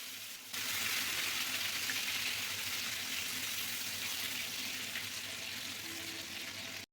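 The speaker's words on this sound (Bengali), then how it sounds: "কালো জিরে ফোড়ন দেওয়ার পরে দিয়ে দিলাম এর মধ্যে পেঁয়াজ কুচি। পেঁয়াজটাকে ভালোভাবে ভেজে নেব।" Chopped onion frying in hot oil after black cumin seeds are tempered, a steady dense sizzle that jumps up sharply after half a second and holds loud and even, with no talking.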